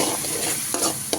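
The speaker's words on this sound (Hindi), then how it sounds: "इसको थोड़ा फ्राई कर लेंगे।" Green chilli garlic paste frying with onions in a pan, a steady close sizzle with brief stirring scrapes near the end, no voices.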